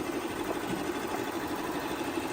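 Shark Matrix AV2310AE robot vacuum moving under a couch, a steady droning motor hum with a faint whirring texture, continuous and even throughout.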